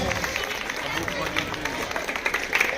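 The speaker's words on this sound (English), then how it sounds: "Please clap your hands and encourage to our students" Audience clapping for students at a school prize ceremony, a steady crowd applause with scattered sharper claps throughout.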